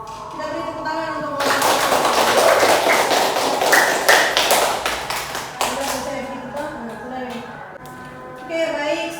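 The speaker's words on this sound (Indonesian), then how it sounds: "Kita beri tepuk tangan untuk" A university class of students breaks into loud, dense applause that swells for several seconds and then tapers off, with a voice talking at the start and again as the clapping fades.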